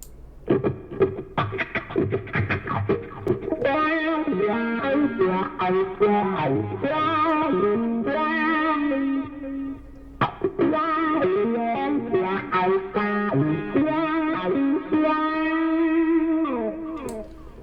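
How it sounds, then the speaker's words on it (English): Distorted electric guitar through a software wah pedal effect swept in real time with a mouse inside a DAW, the tone sweeping up and down as riffs and held chords play steadily, without talk. "I can use my mouse to click and drag and move the wah pedal in real time, and you'll hear it like this"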